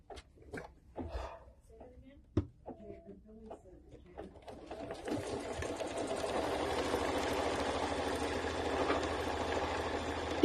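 After a few soft clicks and faint taps, a sewing machine stitching a placement line for an appliqué letter A starts up and runs in a steady, rapid hum. The stitching is quiet and nearby, with birds cooing faintly in the background.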